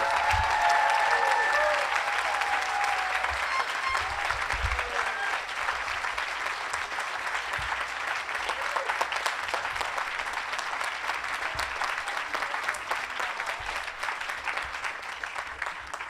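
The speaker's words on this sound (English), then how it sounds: "I want to hear a much louder round of applause for them all" Loud, sustained applause from a large audience at a 2016 graduation ceremony, a thick even wash of clapping that continues without pause for about sixteen seconds.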